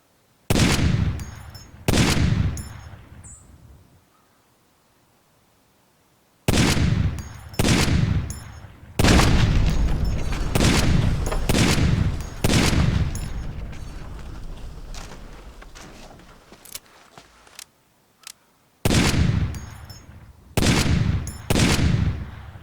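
Rifle fire on a target range in the tactical shooter Rainbow Six 3, loud sharp shots in short bursts and rapid strings separated by brief pauses, some gaps falling fully silent.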